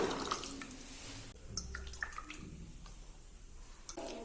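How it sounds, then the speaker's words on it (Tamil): Milk and oil pour into a bowl for a spongy chocolate cake batter, soft close splashing and dribbling in short bursts, faint and intermittent. "அடுத்ததா ஒரு பாத்திரத்துல நம்ம எடுத்து வச்சிருக்கிற பால், எண்ணெயெல்லாம் சேர்த்துக்கலாம்."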